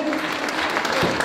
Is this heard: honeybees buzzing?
no